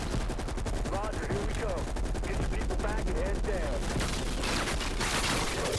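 A napalm strike lands in Call of Duty Black Ops Cold War, with rapid, rhythmic bursts of gunfire and explosive crackle throughout, loud and close, and a denser roaring blast near the end.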